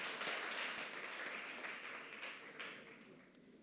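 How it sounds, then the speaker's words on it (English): Moderate applause from an audience, steady clapping that gradually fades toward the end. "A round of applause to them, please."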